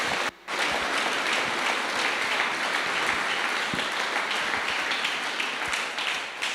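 A church congregation at a Good Friday service breaks into strong, sustained applause, a dense steady wash of clapping that holds evenly throughout after a brief dip at the start.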